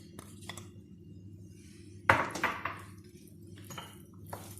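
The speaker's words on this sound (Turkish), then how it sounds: "Her tarafına eşit bir şekilde karıştırıyorum" Star pasta salad with red pepper and finely chopped parsley is stirred in a bowl with a utensil. Soft clinks and scrapes sound over a low steady hum, with a louder clattering burst partway through.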